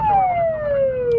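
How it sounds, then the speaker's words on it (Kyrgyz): An ambulance siren on the road, a loud close wail sliding steadily downward in pitch with traffic rumble underneath. "Жол босатабыз, тез жардам кетет."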